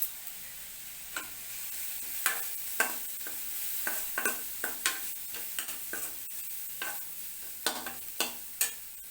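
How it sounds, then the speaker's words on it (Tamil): A potato filling for stuffed bread bajji is lightly sautéed in a pan with turmeric and chili powder, giving a faint, soft sizzle broken by repeated spoon scrapes and taps, with no talking. "ரொம்ப வதங்கணும்னு அவசியம் இல்லை, சும்மா ஒரு லேசாக வதக்கினா போதும்"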